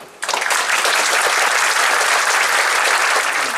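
An audience on an eclipse cruise bursts into applause after a brief quiet moment, sustained, dense clapping from many people holding steady and loud.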